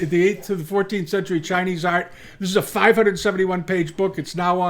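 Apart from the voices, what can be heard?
None of the usual background noises is heard.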